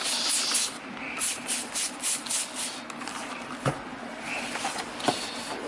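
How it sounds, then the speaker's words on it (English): A cloth wipes down a Hoover WindTunnel U6485900 self-propelled vacuum cleaner in steady close rubbing strokes, a soft repeated swishing with a couple of small knocks. "now we can wipe it clean"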